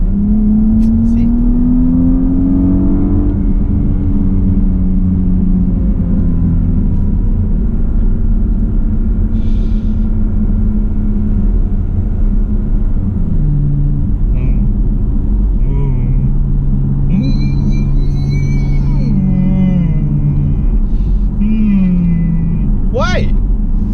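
A 2018 Porsche Panamera 4 Sport Turismo with its 2.9 V6 and sport exhaust, a loud, close engine drone whose pitch rises and falls through revs and gear changes, with people talking over it.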